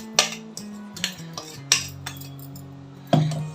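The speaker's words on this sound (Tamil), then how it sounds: "சுகர் ஏலக்காய் எல்லாம் நல்லா கலந்து விட்டுட்டு கீ விட்டு விட்டு பிடிக்கலாம்" Rava laddu mixture of semolina, sugar and cardamom being mixed in a bowl, with a series of close spoon scrapes and metallic clinks at an uneven pace and no voices.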